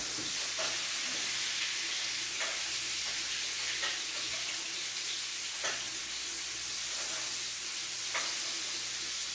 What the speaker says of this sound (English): Make sure you want to baste your steak so you keep all the juices in there.